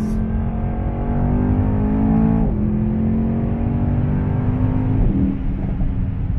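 A Mercedes E63 S AMG sedan with 612 hp pulls hard on a short straight, its engine droning loudly with two upshift dips and steady exhaust roar. No one speaks.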